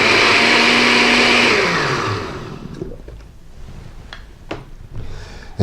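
Blender whirring loudly as it blends frilly kale for a green drink, a steady high motor drone that winds down and stops, followed by quiet clatter and light knocks.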